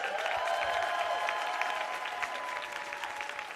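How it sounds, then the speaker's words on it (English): Audience applause fills a storytelling stage show, a dense, steady wash of many hands clapping that carries on throughout and tapers only slightly toward the end. "Are y'all clapping for me, the dress, or this thing on my head?"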